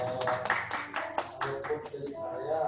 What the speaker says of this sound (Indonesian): Tepuk tangan dulu dong ya.